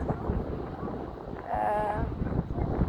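Wind buffeting the microphone outdoors on a beach among dunes, a steady low rumble and rush with gusts that swell midway.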